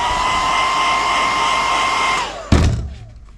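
A heat gun blows hot air over the lower edge of a body decal on an ARRMA Fireteam RC car shell, a loud steady whirring hiss that winds down before a sharp thunk as it is set down.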